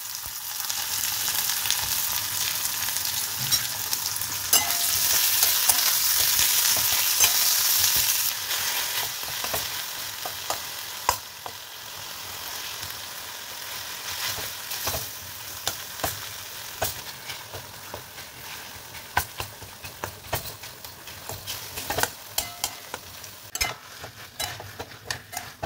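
Chicken fries in a generous amount of oil with a loud, steady close-up sizzle that crackles and pops throughout, louder at the start and settling into a busy hiss.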